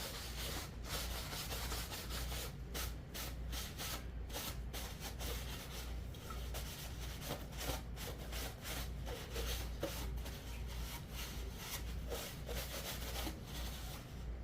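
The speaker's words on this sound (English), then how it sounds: "Now I'm gonna wipe it off." A yard sale item is wiped off up close. The steady rubbing and scrubbing strokes repeat continuously and fairly quietly, and no one talks.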